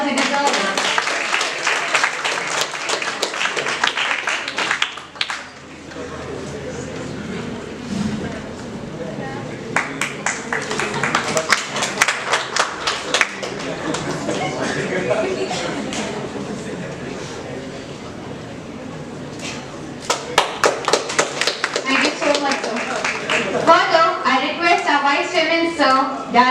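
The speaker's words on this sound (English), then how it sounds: "Let's please give them a huge round of applause." An audience at a Constitution Day event in India claps in several bursts of dense, rattling applause, at first loud, then thinning, then swelling again, with a voice speaking over parts of it.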